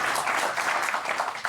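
A television studio audience applauds a political guest on a French talk show, a brief, steady wash of clapping from many hands that fills the short moment.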